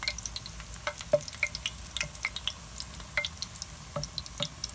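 Daylilies frying in a pan, a steady soft sizzle broken by scattered small pops and crackles, close and fairly quiet, with no talking.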